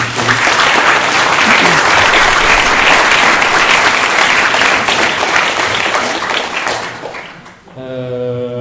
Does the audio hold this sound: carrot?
no